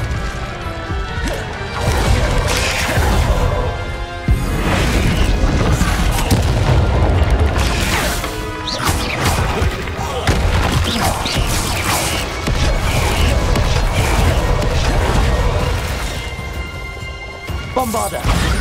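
Incendio fire spells go off repeatedly in Hogwarts Legacy combat, with loud crashing bursts and booming impacts that come in quick succession over a dense battle din, with occasional voices underneath.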